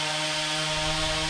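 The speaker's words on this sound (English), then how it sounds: "I apologise about the noise of the chainsaw" A chainsaw cutting wood runs loud and steady nearby, its engine drone holding a constant pitch throughout with no pauses.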